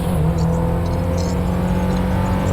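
A tuned car accelerating in GTA, its engine droning steadily and loudly with a low hum that holds throughout, without talk over it.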